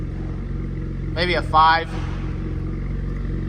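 A BMW X3M fitted with a cheap Alibaba aftermarket exhaust holds a steady, deep idle drone throughout, with no clear rev rise. A voice speaks briefly over it midway.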